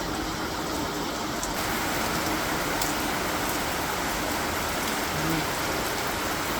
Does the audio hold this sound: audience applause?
no